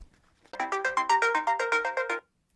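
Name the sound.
phone ringing, triggered by Samsung Galaxy Watch find my phone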